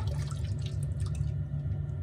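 Water is pressed and drained out of strained food wrapped in cheesecloth, a continuous dripping and trickling at close range over a low background rumble, with no talking.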